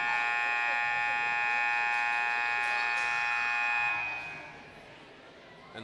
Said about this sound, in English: We'll get a buzzer here.